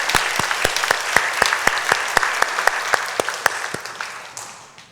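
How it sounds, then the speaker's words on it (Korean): A congregation at a Sunday evening church service claps in unison, a regular beat of sharp, distinct claps about twice per second over softer scattered applause, tapering off at the end. "하나님께 영광의 박수 올려드리겠습니다."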